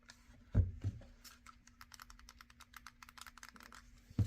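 Clicky shoulder buttons on a Retroid Pocket 5 handheld game console, pressed in a rapid, fairly even series of sharp, close clicks with a couple of heavier thumps at the start and end, against a faint steady hum.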